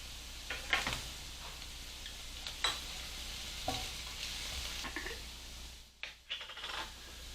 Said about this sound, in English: So now it's time to add the bacon.